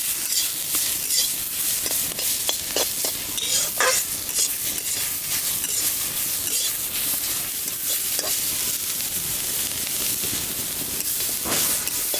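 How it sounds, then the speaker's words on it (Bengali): Grated carrot fries in a pan with cracked cardamom for a carrot patishapta pitha filling, giving a steady close sizzle broken by frequent scraping stir strokes through the whole stretch, with no talk. "হালকা লাল লাল ভাজা করে নেব"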